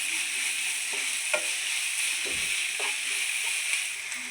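Turmeric, garam masala and black pepper are stirred together in a hot pan for chicken mappas, with a steady sizzle and a few soft scraping strokes of the spoon near and alone.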